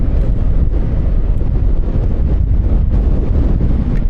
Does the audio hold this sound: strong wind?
yes